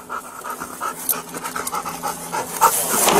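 A sheriff's office police dog pants steadily and rapidly close by, its quick rhythmic breaths sounding alone without talk.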